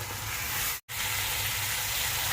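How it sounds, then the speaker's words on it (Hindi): Beef with ginger-garlic paste sizzles and fries steadily in a hot pan, a loud close crackling hiss with one brief break, no voices. "और इसको मैं अभी खूब अच्छी तरह भूनूंगा जब तक ये ब्राउन हो जाएगा।"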